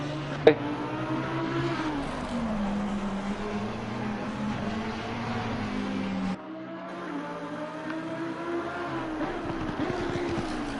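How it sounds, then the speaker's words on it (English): A race car engine in the racing video game Assetto Corsa Competizione, at the Nürburgring, drones steadily and revs up and down throughout, with a sharp click near the start and a sudden brief drop midway. "Can y'all hear the car?"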